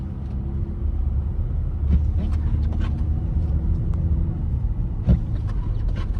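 A 2023 Toyota Corolla Cross Hybrid driving through snow, heard from inside as a steady low road rumble and drone, with a few faint clicks and knocks from the cabin and no speech.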